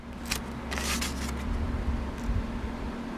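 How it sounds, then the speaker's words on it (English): Scissors snip paper along a score line while folding a gift box, a few soft, crisp cuts close by and alone. "you want to get your scissors and you want to snip this little part right here"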